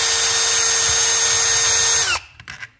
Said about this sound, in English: Again, we're going to cheat and use the drill just in the interest of time.